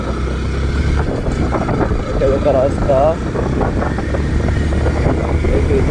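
A motorbike is ridden along an empty road at night near Dotong hill, its engine a low steady drone mixed with wind rush while someone talks over it throughout.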